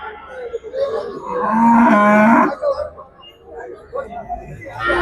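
A cow lets out a long, loud moo close by at a cattle market in Melapalayam, Tirunelveli district, with murmured voices and crowd noise around it.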